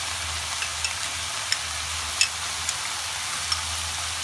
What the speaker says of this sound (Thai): วันนี้จะผัดแบบใส่เต้าเจี้ยวด้วยนะคะ